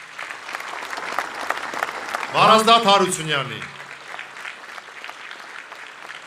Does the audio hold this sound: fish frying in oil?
no